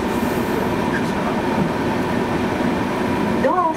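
A Meitetsu limited express train on the Tokoname Line pulls into a station with a steady rumbling drone that fills the whole stretch, then rising whine tones near the end.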